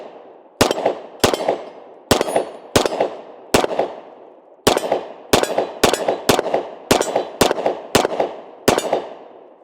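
Kimber CDS9 compact pistol firing 115 grain rounds, with about thirteen sharp, loud gunshots at a steady, slightly uneven pace and a short pause near the middle of the string.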